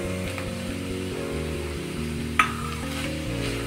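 Vegetables in a pan with chili powder, turmeric and salt are stirred over low heat, giving a soft sizzle with a sharp utensil scrape against the pan partway through.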